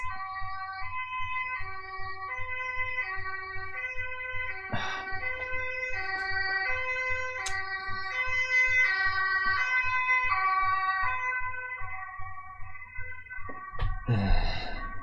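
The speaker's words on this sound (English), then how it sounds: "It's just an ambulance." An ambulance passes with its siren cycling through a steady rising and falling wail for many seconds, and two loud thumps cut in along the way.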